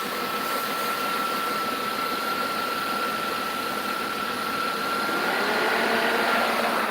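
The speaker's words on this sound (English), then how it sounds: "engine fan just went on right now" Engine cooling fan on a 2000 Dodge Caravan with an overheating problem, running as a steady, fairly loud whir with a constant tonal hum over a broadband rush, continuous throughout with no talk.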